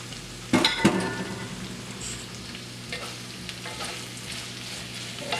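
Vegetable stir fry of mushrooms, onions and garlic with sweet potato sizzling steadily in a skillet; a pepper mix lands in with a brief clatter of utensil scraping and stirring, then the frying hiss carries on alone at close range.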